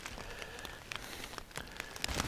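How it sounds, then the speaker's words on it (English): Light rain falls on a lakeside fishing outing, soft scattered patter and crackle on surfaces, close and faint, with no voices. "The rain continues."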